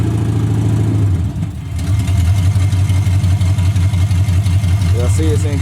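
Engine of a Box Chevy truck converted to electric drive, running steadily as the truck moves under its own power; a loud, continuous low hum with a brief dip partway through.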